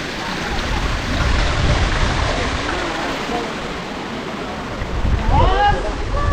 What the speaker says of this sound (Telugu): చాలా చల్లటి గాలి వస్తుంది నాయిస్ కూడా ఎక్కువ ఉంది రోజు వైండ్ ఎక్కువ ఉంది